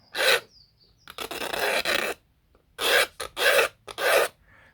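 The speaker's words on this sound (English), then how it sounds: "you use a blade on edge like this to scrape the wood" A blade held on edge scrapes a chamfer along a wooden part, giving five rasping strokes in an uneven rhythm with brief silences between them, heard close and loud with no talking.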